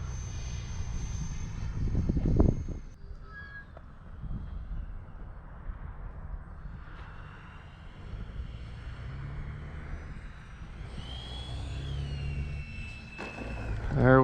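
An RC model Su-27 jet flies in to land with a faint ducted-fan whine that drifts overhead, distant and fairly quiet under outdoor background noise.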